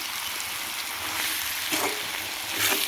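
Gooseberry pickle with sesame, mustard and fenugreek cooking in oil, a steady close sizzle and bubbling with a few stirring scrapes and bursts of spattering.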